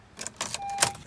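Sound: key inserted into 2017 Honda Accord ignition

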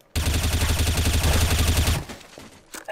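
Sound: gunfire in the video game Trouble in Terrorist Town

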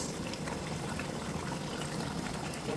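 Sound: morog polao rice pot boiling

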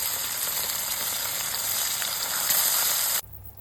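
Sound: salted mackerel frying in oil

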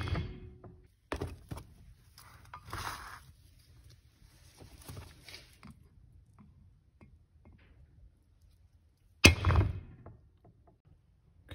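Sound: hammering to stake a bearing into 4L80e pump pockets

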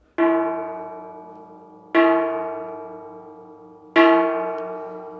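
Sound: temple gong struck

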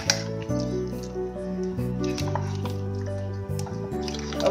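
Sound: stirring marinated soya chaap

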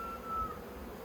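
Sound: honey bees buzzing on queen cell cups

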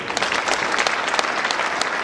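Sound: church congregation applauding

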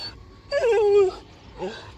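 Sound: dogs barking from a nearby house

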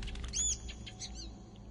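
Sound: birds flapping in Assassin's Creed Chronicles: China video game

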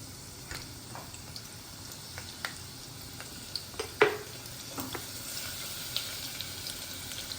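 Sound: crushed garlic frying in hot oil in a pan

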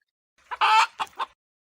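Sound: chicken clucking

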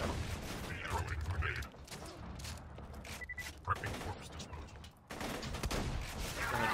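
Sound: sniper rifle shots in video game Borderlands 2

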